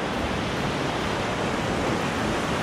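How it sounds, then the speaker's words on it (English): A broad river joined by an alpine creek tumbling down into it, producing a steady, full rushing roar of flowing water that stays constant and close throughout, with no voices. "Here's the main river, guys, and this is Kiwi Creek coming all the way down."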